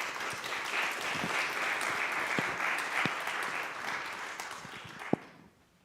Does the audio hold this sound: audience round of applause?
yes